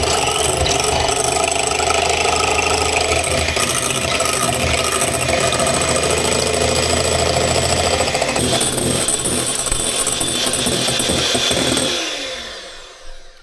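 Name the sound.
electric whisk whisking egg whites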